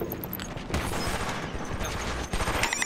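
Dense, noisy gunfire bursts in Killzone 3 during a 5v5 clan match, with a sharp crack near the end, continuous and fairly loud, no talking.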